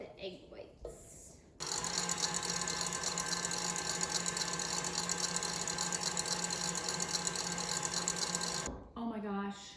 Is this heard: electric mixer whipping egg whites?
yes